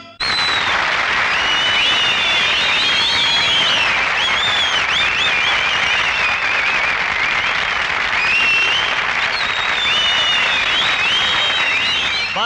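A large audience at a college gathering applauds continuously, a dense roar of many hands clapping that stays loud and sustained throughout, with faint whistles riding over the top.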